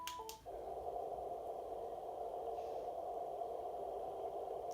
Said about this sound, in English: It's called white noise.